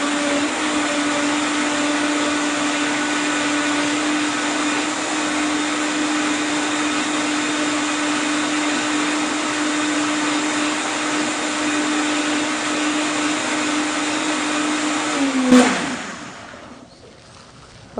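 A blender whirs steadily and loudly for about fifteen seconds while blending a fruit smoothie with walnuts and nuts, then switches off with a sharp stop and the motor winds down into quiet.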